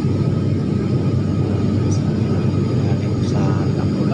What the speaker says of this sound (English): Ito ay nagtitake off na kami galing sa Mactan International Airport